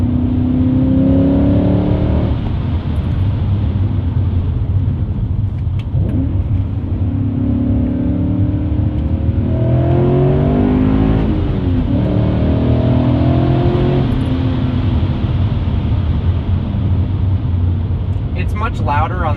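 A BMW E39 M5 V8 with a muffler delete pulls hard through turns, its exhaust note rising and falling in repeated loud surges close by, with a voice talking over it throughout.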